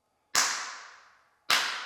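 Two sharp hand claps in a quiet room of an old county infirmary, each a hard broadband snap with a long ringing decay, spaced about a second apart.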